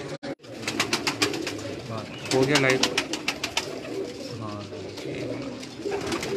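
Pigeons on a Karachi rooftop coo in repeated low throaty bursts, close and clear, under and between a man's speech.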